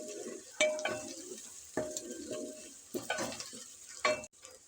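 Ginger-garlic paste sizzles in a pan of lightly browned onions for an aloo baingan curry, with a soft, steady fry broken by several sharp stirring scrapes of a spoon against the pan.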